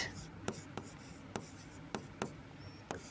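Writing on a board during a zoology class, heard as sharp, separate taps and strokes roughly every half second over a quiet room hum.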